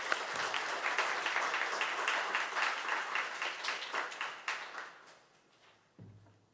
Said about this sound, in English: a round of applause for Rawangi.